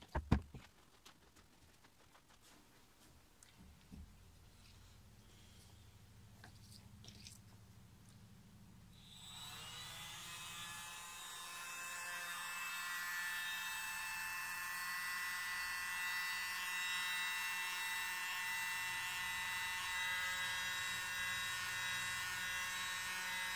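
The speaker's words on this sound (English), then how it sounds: "I wonder if I get the little leaf blower, if that would help make it so it's not quite so much" A small leaf blower drying a Dutch pour painting starts after several seconds of faint handling noises, then runs as a steady, fairly loud whining whoosh until the end.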